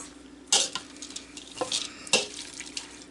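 A mixing spoon scrapes and clinks against a hot microwave-safe cup while stirring a melted butter mixture, a few sharp knocks and short scraping strokes, close and fairly quiet, with no talking.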